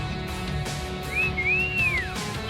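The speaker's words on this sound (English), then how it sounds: "Was that a wolf whistle?" A wolf whistle in the video game Trails of Cold Steel 2: a clear two-part whistle, a short rising note then a longer rising-and-falling sweep, heard over steady game ambience with a few soft thumps.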